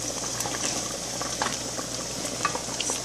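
Okra soup being stirred in a pot, a soft wet sloshing and faint sizzle with small scraping taps, quiet and steady, without talk.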